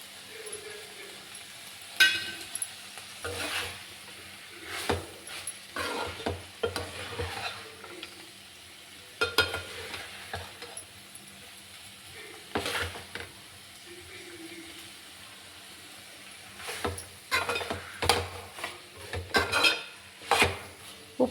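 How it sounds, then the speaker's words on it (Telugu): Masala is stirred into cauliflower curry in a pan with repeated scraping and clanking strokes of a spoon against metal. The strokes fall irregularly over a soft background sizzle. "ఇదిగో ఇప్పుడైతే నేను మసాలా వేస్తున్నాను"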